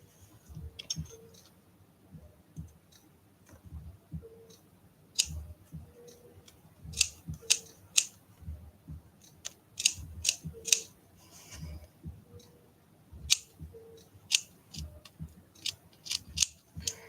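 Scissors snip through material while trimming an art doll outline, a series of crisp close cutting clicks in irregular bursts with quiet pauses between, no speech.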